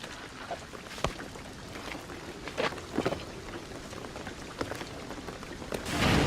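Rain falls steadily in the video game Shadow of the Tomb Raider, a continuous hiss of drops with a few sharper splashes and a swell of heavier downpour near the end, heard alone without voices.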